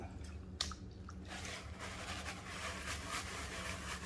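Water sloshing and dripping as gold paydirt rocks from Rose Creek, Nevada are rinsed off, a steady wet wash with a few squishy splashes near the start.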